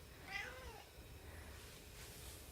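A house cat yowls indoors, one drawn-out wavering meow that rises and falls, faint and fairly close against a quiet room hum, followed by near silence.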